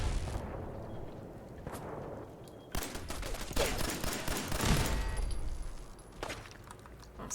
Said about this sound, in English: And then we've got the freaking turrets.